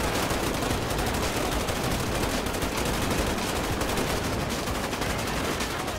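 Dense, sustained crossfire in GTA 5 as a SWAT police officer: overlapping machine-gun bursts and single shots rattle continuously at a steady, loud level with no pauses.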